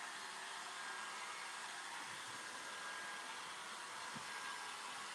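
A hair dryer blows steadily to dry alcohol inks on a canvas, a constant even hiss of airflow throughout with no breaks or talking.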